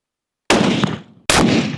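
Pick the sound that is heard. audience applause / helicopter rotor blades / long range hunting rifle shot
long range hunting rifle shot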